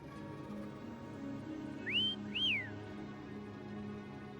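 A character in the video game Wuthering Waves gives two short rising-and-falling whistles, clear and fairly close, over a low steady background hum.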